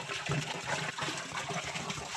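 Water pouring steadily into a container, a continuous splashing trickle with a few faint voices in the background.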